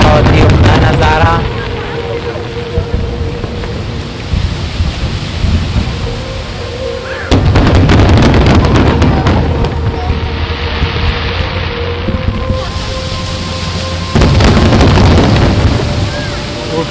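A fireworks show over the water in Busan, South Korea, with loud, heavy booming bursts like thunder. Rolling rumbles and crackle fill the space between the big blasts.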